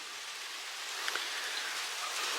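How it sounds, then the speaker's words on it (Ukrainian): Steady rain falls outdoors as a continuous broadband patter, fairly close and even, with a few faint isolated drips standing out and no voices. "другий день підряд на вулиці йде дощ"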